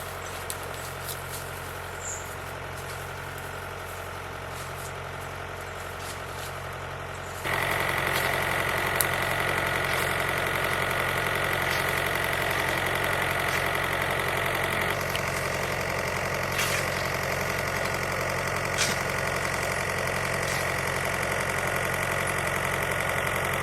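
A diesel tractor engine idles steadily throughout, a low rumbling drone that grows louder and rougher partway through, with faint rattling on top.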